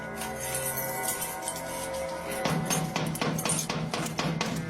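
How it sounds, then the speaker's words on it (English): Someone banging on a door in the middle of the night: a rapid series of loud, close knocks and thuds that break out partway through over a steady background hum. "Beating on my door like that."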